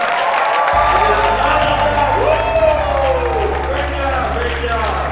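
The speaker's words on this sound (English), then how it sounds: "can we just give a huge round of applause to all the teams who just presented" A seated audience applauds the teams that have just presented, giving sustained, dense clapping and cheering from a crowd indoors that holds steady throughout.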